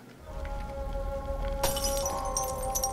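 Glass shattering in the horror video game The Evil Within: a sharp, bright crash partway through, followed by a tinkling spray of fragments over a low steady hum and game ambience.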